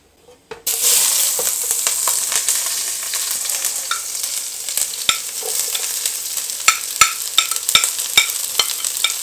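Scallions being stirred and fried in a large amount of oil for spicy seafood noodle soup, a steady close sizzle with repeated sharp clinks of a utensil against the pan, no talking.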